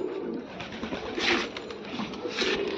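Hyderabadi pigeons coo softly and repeatedly close by, low throaty murmurs rising and falling against a quiet background.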